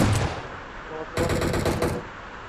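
Shotgun fire in BGMI on the Erangle map comes as loud blasts over dense game noise, with a heavy burst of shots packed together in the middle of the clip.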